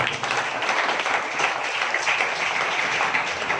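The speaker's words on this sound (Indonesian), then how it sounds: "Tepuk tangan." Steady, dense applause from a crowd at a village youth organization event in Mojokerto, Indonesia, continuous and even throughout.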